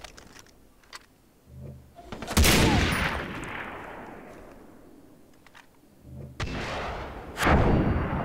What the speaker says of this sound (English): Let's get the old sniper rifle out.